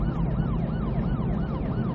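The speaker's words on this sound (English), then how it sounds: "When officers hit the lights and sirens" A wailing siren sweeps up and down in a steady repeating cycle, loud and close over a low engine rumble.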